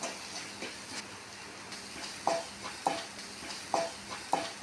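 Chicken being stirred with chicken masala, chilli powder and salt in a pan, with a steady frying hiss and a few sharp scraping clinks of the spoon at regular intervals.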